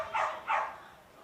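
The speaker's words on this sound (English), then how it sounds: "Dogs are getting involved here at Walker Park" Two quick dog barks ring out at an amateur Australian rules football match at a suburban park, fairly close and clear against faint crowd background.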